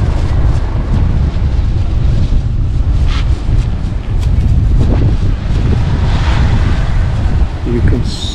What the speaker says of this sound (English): There's quite a wind today.